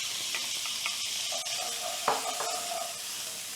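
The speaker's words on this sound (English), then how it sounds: "you want to fry this, and you want to keep stirring because you don't want them to burn" Long grain rice for Mexican rice frying in a pan while being stirred, a steady close sizzle with scraping stir strokes and a sharper clack near the middle, no talk.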